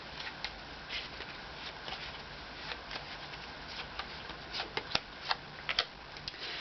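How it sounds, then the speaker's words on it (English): An Osho Zen tarot deck is shuffled and cards are pulled from it, giving a soft, steady papery rustle broken by scattered sharp flicks and snaps that grow crisper toward the end, with no one talking. "let's pull some more cards from the Osho Zen deck and see what comes out around these original cards we've pulled."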